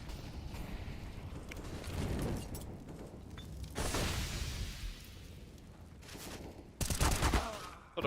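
AK-47 gunfire in a Counter-Strike esports match: loud, dense bursts of rapid automatic fire with booming impacts, continuing through the whole stretch with heavier volleys near the end.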